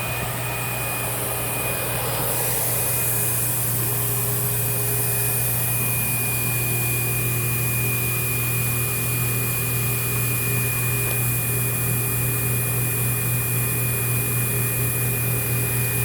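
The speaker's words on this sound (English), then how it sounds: "let's lean this back to allow the brush roll motor to turn on" Windsor Versamatic Plus upright vacuum cleaner running steadily with its brush roll motor engaged, a loud, constant motor whine and airflow roar with a steady low hum, close by and unbroken.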